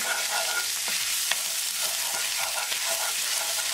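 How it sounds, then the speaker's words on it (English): Ginger, green chili and garlic paste sizzling in hot oil with cumin seeds for egg masala, stirred continuously, giving a dense, even frying hiss with faint scraping throughout. "Add ginger, green chili and garlic paste."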